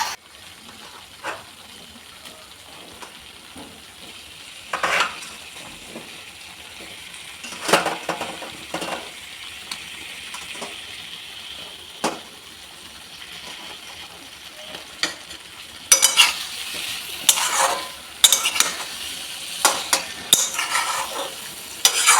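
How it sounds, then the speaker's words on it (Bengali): Chili-laden spice paste being stir-fried in hot oil in a pan: close, repeated scraping and sizzling strokes, sparse at first, then busier and louder toward the end, with no voices. "ভালো করে এবার কষাও।"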